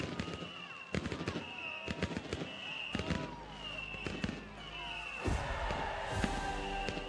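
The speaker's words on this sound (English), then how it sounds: "Yay, fireworks." Fireworks in the video game The Settlers pop and crack in a rapid series of sharp bursts over festive game music, growing denser toward the end.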